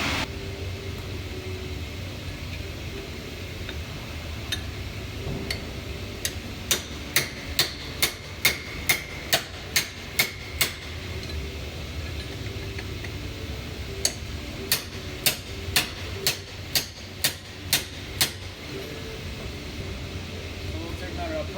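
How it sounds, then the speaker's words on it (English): A small hammer strikes the front axle shaft of a Ram 1500 in sharp, ringing metallic blows. One quick run of about ten evenly spaced hits is followed by a pause and then a second run of about ten, all close over faint background hiss. "So now I'm just gonna get a little hammer and hit it over here."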